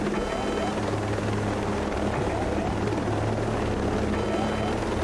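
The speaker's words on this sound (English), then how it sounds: "This helicopter's too damaged, man." A damaged helicopter flies in a video game with a steady, loud rotor thrum and a low drone throughout, alongside a persistent engine noise.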